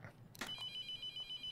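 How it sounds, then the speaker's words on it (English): A cell phone rings in The Mortuary Assistant horror game, a repeating electronic ring pulsing steadily and fairly loud, with a brief soft thud before it starts. "Stop calling me on my cell phone, please."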